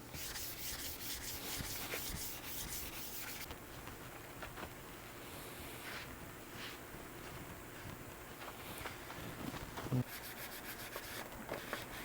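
Fine 800-grit sandpaper rubbing across a custom guitar's finish during a build, a soft steady scratchy hiss with faint back-and-forth strokes, close and quiet throughout.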